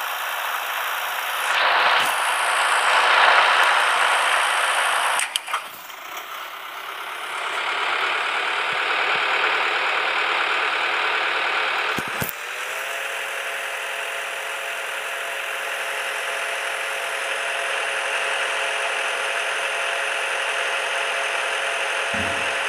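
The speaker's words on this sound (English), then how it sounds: "Now the land is being plowed with a tractor." Tractor engine in Farming Simulator 18 ploughing a field, a steady loud mechanical drone with gear-like clatter, shifting in tone partway through and continuing evenly to the end without talk.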